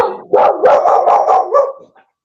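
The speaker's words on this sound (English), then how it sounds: "Sorry about my dogs." Several dogs bark in a rapid, overlapping burst close to the microphone indoors. It lasts under two seconds and then trails off into silence.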